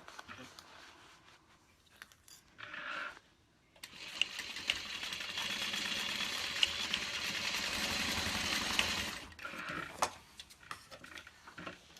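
A sewing machine stitches a seam on a Peek-A-Boo Beauty Bag, running steadily for about five seconds at moderate volume. Short bursts of sewing and handling noises come before and after.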